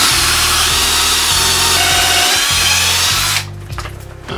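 A power drill fitted with a large bit bores into a lightsaber hilt part clamped in a vise, running loud and steady for about three seconds before cutting off, leaving a quieter tail.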